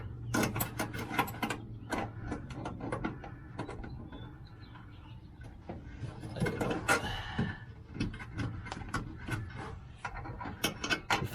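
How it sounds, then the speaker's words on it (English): A wrench tightens screws on an RV, producing a string of quiet ratcheting clicks and metallic mechanical rattles at close range, with short pauses between bursts. "Get my wrench and we'll set these screws up."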